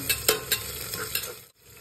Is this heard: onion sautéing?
yes